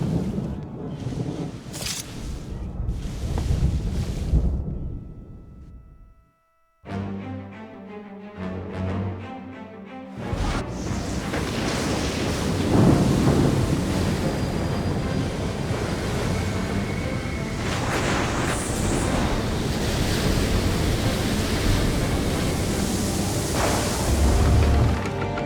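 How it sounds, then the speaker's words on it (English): Storm at sea in Assassin's Creed III, a loud, sustained roar of crashing waves and gusting wind that cuts out briefly, returns behind a musical passage, then surges back full and dense with occasional heavy thumps. "You wish us to sail into the storm?"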